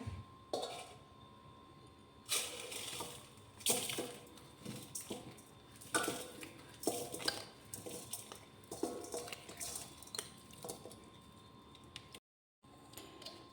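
Lemon pickle pieces are mixed with spices in a steel pot, giving repeated scraping clinks and metallic knocks in uneven bursts, close and fairly quiet, without talk.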